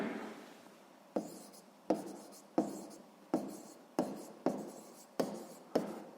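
Close, quiet pen-on-paper strokes as an answer is written by hand, about nine short scratchy marks in a steady rhythm roughly every half second, with no voices.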